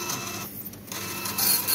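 A receipt printer printing a bill, a short mechanical whir and rattle lasting under two seconds, close and fairly steady with a brief dip midway.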